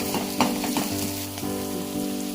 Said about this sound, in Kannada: ನಾನು ಸಪ್ರೇಟಾಗಿ ಒಂದು ಅರ್ಧ ಸ್ಪೂನು ಎಣ್ಣೆ ಹಾಕ್ಕೊಂಡು ಬೇಯಿಸ್ಕೊಳ್ತಾ ಇದ್ದೀನಿ ಫ್ರೈ ಮಾಡ್ಕೊಳ್ತಾ ಇದ್ದೀನಿ